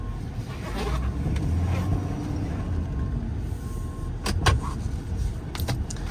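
A 2017 Ford F-550 4x4 mechanics crane truck with a 6.7 diesel engine turns, giving a steady low engine rumble and road noise with a few sharp clicks and knocks from the cab, and no talking.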